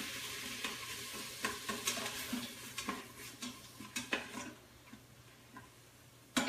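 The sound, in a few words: stirring beef stew in a slow cooker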